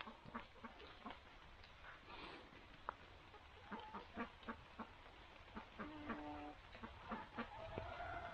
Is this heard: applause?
no